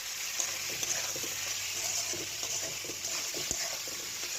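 Potatoes frying in a pan with poppy seed paste and salt are stirred, giving a steady soft sizzle with faint scraping clicks throughout, fairly quiet and with no talking.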